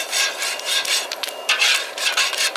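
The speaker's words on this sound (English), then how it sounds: "Never stop stirring. And just keep doing it." Kettle corn with sugar is stirred in a pot, giving continuous scraping, rasping strokes against the metal in an uneven rhythm, close and fairly loud with no talking.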